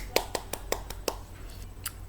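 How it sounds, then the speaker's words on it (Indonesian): A few sharp hand claps in a classroom applauding a student, a short rhythmic burst of about half a dozen claps, close and modest in volume, with a faint voice in the background. "Tepuk tangan buat Mbak Anis."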